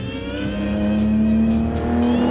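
A Lamborghini Miura SV, the final version of the Italian sports car built until 1972, runs loud and steady close by, its engine holding a sustained droning note that rises slightly as it pulls along.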